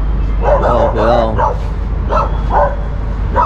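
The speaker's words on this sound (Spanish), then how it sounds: "Mira, es un Doberman." A Doberman on a late-night street barks in several sharp, close bursts with short gaps between them, and people talk nearby.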